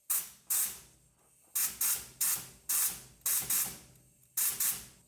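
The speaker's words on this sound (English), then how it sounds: "let's see if we can blow some air into the wheel cylinders and crack those bleeders" Compressed air blown into the brake wheel cylinders of an S10 pickup: repeated short, sharp hissing blasts, some in quick pairs, each followed by a brief fade, close and fairly loud.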